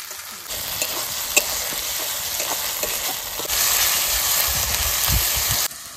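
Tomato stirred into frying spice paste with chilli in a pan, a continuous sizzle with scraping stirring strokes, growing louder midway before cutting off near the end.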